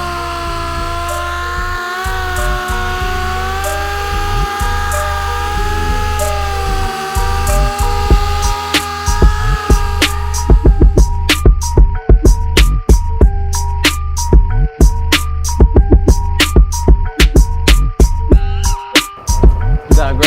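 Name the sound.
sanding car hood with 3000 grit sandpaper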